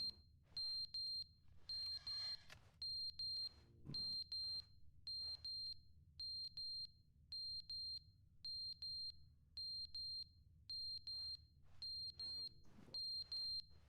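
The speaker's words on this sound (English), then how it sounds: "Carbon monoxide warning." A steady run of loud, shrill electronic beeps from a carbon monoxide alarm in The Stanley Parable Ultra Deluxe, repeating in quick pairs and triplets over a low background hum with no voices.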